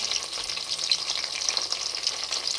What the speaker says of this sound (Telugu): వీటన్నిటిని బాగా ఫ్రై అవ్వనిద్దాం